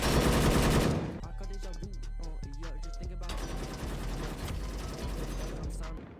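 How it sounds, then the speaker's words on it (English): Automatic weapon fire in the shooter game Project Delta, pre-firing while pushing: a loud sustained burst at the start, then rapid mechanical clicks and further steady gunfire running throughout. "I like to hit fire and push like this. I just go ahead and pre-fire."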